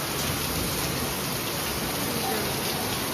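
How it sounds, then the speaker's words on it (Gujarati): Heavy, fast rain pours down during a sudden evening storm, a dense steady hiss of drops hitting surfaces that holds evenly throughout. "વરસાદ પડે છે"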